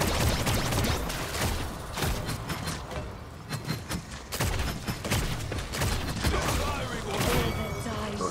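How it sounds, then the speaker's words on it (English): Gunfire in the Paladins video game, played on Xbox One, comes as rapid bursts of sharp shots in an uneven rhythm, fairly close and mixed with other combat effects, with a player's voice talking over it. "Those shots were atrocious."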